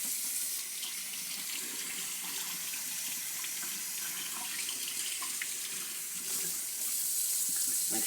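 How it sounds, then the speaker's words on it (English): Tap water runs steadily over mushrooms being rinsed at a kitchen sink, a continuous close splashing hiss with small shifts as the stream hits the caps, alone with no voices. "give them a quick rinse"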